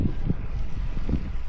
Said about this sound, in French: il y a énormément de vent comme vous l'entendez certainement